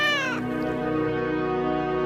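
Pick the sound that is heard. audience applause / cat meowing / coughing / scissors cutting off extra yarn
cat meowing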